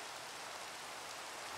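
Steady hiss of rain falling in a video game, an even wash of soft noise with no pauses, fairly quiet and uniform throughout.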